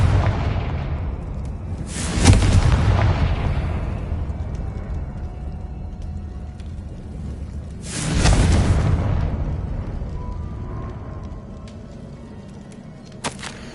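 Confringo spell explosions in the Hogwarts Legacy video game land as two loud booming blasts a few seconds apart, each with a sharp crack that fades into a long rumble.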